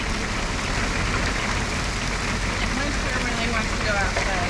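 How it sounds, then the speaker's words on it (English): Hail pelting steadily on a vehicle during a road trip, a dense continuous patter and rattle of ice pellets close by with no letup. "it's hailing"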